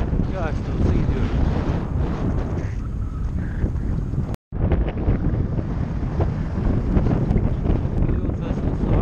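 A steady headwind roars and buffets against the microphone on an open single-lane road between Uşak and Isparta. The loud broadband rush is continuous apart from one brief dropout near the middle.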